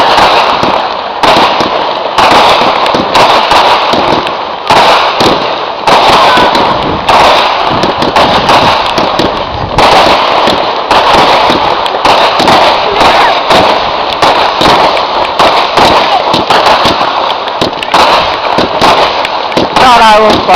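Fireworks display on 4 November with a rapid, near-continuous barrage of loud crackling bursts and bangs throughout, layered with fizzing, and people talking intermittently nearby.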